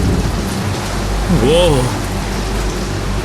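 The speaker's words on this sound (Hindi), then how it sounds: "बारिश हो रही है, भीग जाएंगे।" Steady heavy rain pours close by while thunder rumbles low underneath, and a voice briefly speaks over the downpour.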